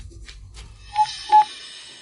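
Two short, clear beeps from a telephone keypad as a number is dialed, spaced a little apart after a few soft rustles, close and alone with no voices.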